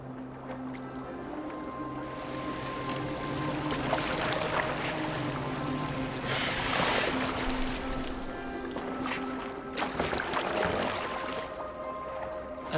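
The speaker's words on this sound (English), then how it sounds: "Are you well enough to steer this boat?" A boat glides across open water in Assassin's Creed Valhalla, with a steady wash of splashing and lapping waves rising in a few louder surges over a low constant hum, with no one speaking.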